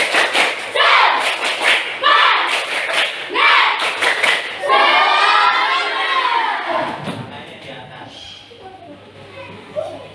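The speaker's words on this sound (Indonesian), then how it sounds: "Masih ngantuk? Tepuk semangat." A classroom of children doing a rhythmic spirit clap together, bursts of group clapping and shouting alternating with a teacher's voice, loud and close.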